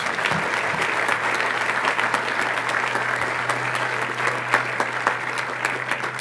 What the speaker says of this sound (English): Let's have another round of applause for all of our recipients.